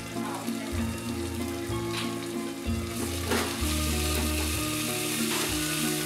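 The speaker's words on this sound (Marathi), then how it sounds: "आणि तुपावर छान परतून घ्या. सतत 5 मिनिटांपर्यंत तरी हा खिमा असाच भाजत रहा." Marinated minced meat (keema) fries in ghee with a steady, continuous sizzle and occasional stirring scrapes, under soft background music.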